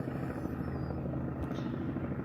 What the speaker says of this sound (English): Choppers make funny noises.